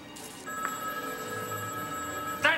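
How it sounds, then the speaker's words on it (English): A telephone bell rings steadily and loudly with a sustained trilling tone that fills the whole moment, with a faint thump near the end. "Answer the phone."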